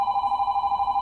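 Phone ringing with a steady electronic ring tone that pulses evenly throughout, loud and close.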